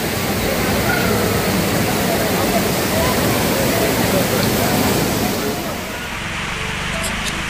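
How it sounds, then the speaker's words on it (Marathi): Bhaje waterfall in Lonavala, a loud continuous roar of falling, rushing water filling the scene, easing slightly toward the end, with no clear talk. "आता आपण पाहूया भाजे धबधबा."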